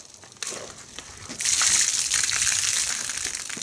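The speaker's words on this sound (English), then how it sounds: "I want to actually take this water out, scrub it against the grit guard again" A wash mitt is scrubbed against a grit guard in a bucket of car-wash water. The water swishes and gushes briefly, then breaks into a sustained, close splashing and churning.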